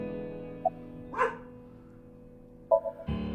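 Dog barking in the AI: The Somnium Files video game: a couple of short, fairly loud barks over a steady low game background, with no talking.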